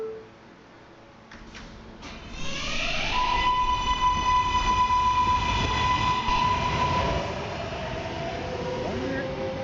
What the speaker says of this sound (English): This is a 39th Street bound R local train.